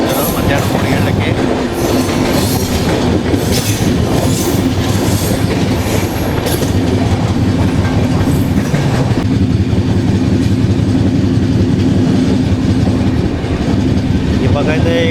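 The 12724 Telangana SF Express from New Delhi to Hyderabad running on rails, heard from inside the carriage as a loud, continuous rumble with rhythmic clickety-clack and a brief wheel squeal, with people talking under it.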